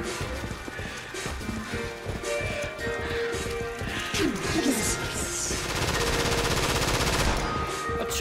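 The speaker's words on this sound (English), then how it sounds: "A chain gun? You've got to be kidding!" Rapid continuous chain gun fire in the video game Killing Floor, set in the Paradise Mall East map, rattling loudly and densely throughout amid other battle noise, with no talk.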